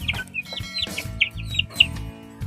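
Young chickens recently recovered from illness cluck and peep close by, a run of short, sharp calls overlapping in quick succession with no talking.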